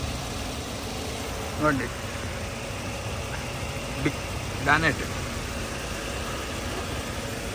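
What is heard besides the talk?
Maruti Suzuki Ertiga ZXi engine idling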